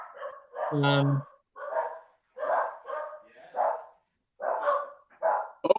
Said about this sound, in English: Devil dog coming in the room.